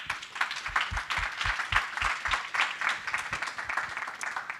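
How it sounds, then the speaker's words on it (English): An audience at a Data Science Festival talk at CodeNode claps together in a steady burst of applause, close and fairly loud, with a few sharp individual claps standing out. "Can we give a big round of applause to all the speakers, volunteers, and particularly CodeNode staff?"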